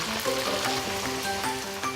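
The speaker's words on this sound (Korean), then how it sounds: "전분 가루를 묻혀 조심스럽게 튀겨주는데요." Starch-coated sailfin sandfish sputtering in hot oil, a continuous bubbling crackle with soft patter throughout, close and fairly steady.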